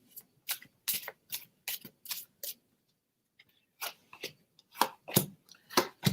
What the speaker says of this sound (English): I'm shuffling the shit out of these cards